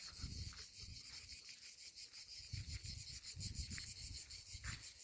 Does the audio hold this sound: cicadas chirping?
yes